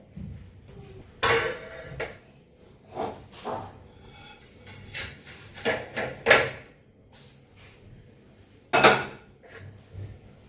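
Another cooking pot is pulled out in a home kitchen during festive cooking, with a string of nearby metallic clanks, knocks and a drawer-like thud, separated by brief quiet gaps.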